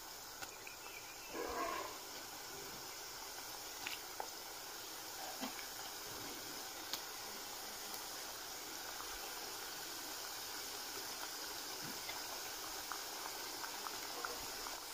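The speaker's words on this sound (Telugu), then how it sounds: "లో టు మీడియం ఫ్లేమ్లో పెట్టుకొని ఫ్రై చేసుకోవాలి." Wheat flour chips fry in oil over a low-medium flame, giving a faint, even bubbling hiss that runs steadily throughout with a few small pops and no talking.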